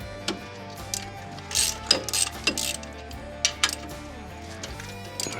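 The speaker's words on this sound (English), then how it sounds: "Right now I gotta pull these 4 bolts real quick." Four bolts come off a Baumalight TRL630D mini skid steer with a ratchet, giving quick clicking pawl rattles and scattered metallic clinks in short bursts over a faint steady hum.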